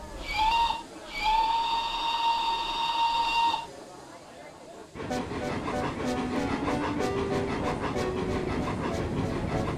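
A steam whistle shrieks twice in long, steady blasts, then a locomotive chuffs rhythmically with hissing steam, loud and close.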